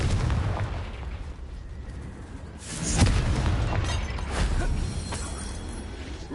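Confringo blasting spell explosions in Hogwarts Legacy, repeated booming bursts and crackling blasts over a steady rumble, with a stronger blast in the middle.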